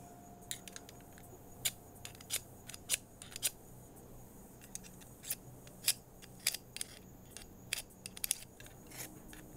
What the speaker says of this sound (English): Sharpens that blade.